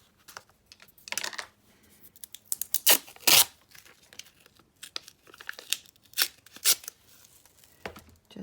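A strip of paper for a hinge is cut and ripped by hand, giving close, crisp bursts of tearing and crinkling separated by short pauses.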